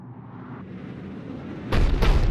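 Cannon fire in the Mass Effect 3 video game: after a low rumbling lead-in, a loud heavy boom bursts in and rolls on with a second thump close behind.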